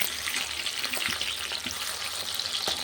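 Sem beans frying in an oil-filled pan for pickle: a loud, close, continuous sizzle with a few soft stirring knocks and no voices.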